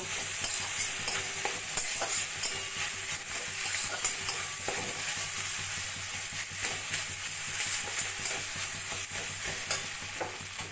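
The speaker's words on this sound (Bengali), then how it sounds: "সেই আলুটা দিয়ে এবার মশলার সঙ্গে ভালো করে মিশিয়ে নেব।" Grated boiled potato and carrot are stirred with spices in a frying pan over the heat. A spoon scrapes and stirs steadily for about ten seconds over a continuous soft sizzle, with no talking.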